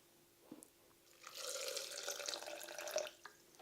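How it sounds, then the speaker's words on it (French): Filtered water poured into a small bowl, a gentle close stream of trickling and splashing for about two seconds, with small drips before and after, faint overall. "On va rajouter de l'eau filtrée"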